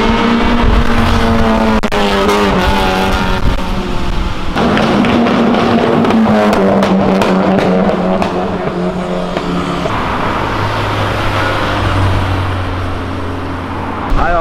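Cars run loudly along Avenida Europa, where a Volkswagen Fusca (Beetle) that has lost a fender drives past. Engines rev and drone close by with a continuous roar, and tires squeal at moments.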